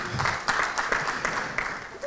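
An audience applauds a colleague after his speech at a talk on Nelson Mandela's impact, with separate claps standing out from a moderate crowd clapping, heard briefly alongside some voice.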